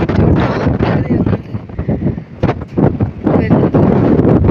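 Strong wind gusts roar across a hilltop in Ooty, buffeting the microphone in loud, uneven bursts that rise and fall over several seconds, with no clear speech.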